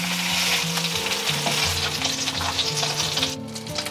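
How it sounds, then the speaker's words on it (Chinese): Aromatics stir-fry in leftover crab oil in an unwashed wok, a loud continuous sizzle with scraping of the spatula and clattering stirring throughout. "不用洗锅，直接用这个蟹油炒一下料头"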